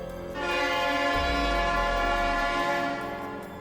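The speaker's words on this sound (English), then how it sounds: "The train pulls into the station with a metallic screech." A train pulls into a station close by with sustained tonal horn-like and metallic squealing, a deep low drone swelling underneath before easing off.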